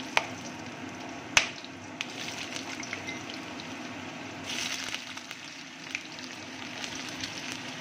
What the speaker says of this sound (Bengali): এবার আমি দিয়ে দেবো ছোট ছোট করে কেটে রাখা আলুগুলো।